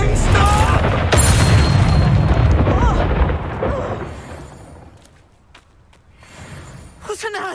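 Fiery spell blast in the game Hogwarts Legacy booms loudly at the start, followed by a rumbling roar that slowly fades, then sharper bursts near the end, with voices heard over the noise.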